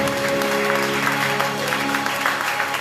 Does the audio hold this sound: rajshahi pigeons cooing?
no